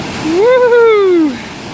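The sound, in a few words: Don Det waterfalls rushing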